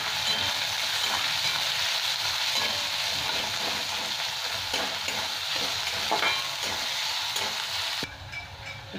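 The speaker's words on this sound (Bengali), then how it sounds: "দুটো পেঁয়াজ কেটে রেখেছি, এটা আমি তেলের মধ্যে ভেজে নেব।" Chopped onions fry in hot oil for paneer bhurji, giving a loud, steady broadband sizzle with repeated scraping stirs, until the sizzle drops away near the end.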